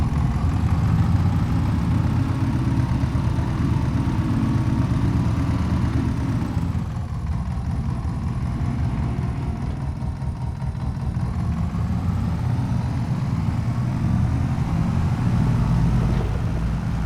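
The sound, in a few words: single-piston engine running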